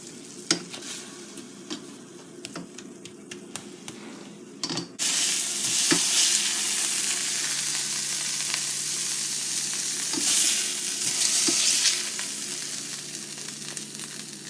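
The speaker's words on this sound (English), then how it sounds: "we're going to cook up some burgers and put them on" Burgers frying and sizzling in a pan, a steady loud hiss that starts abruptly after a few seconds of quiet clinks and stirring, swelling briefly near the end, with no talking.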